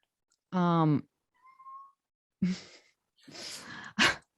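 A house cat gives a loud, close, harmonic meow, then a pause, then a string of rougher, noisier cries and short bursts.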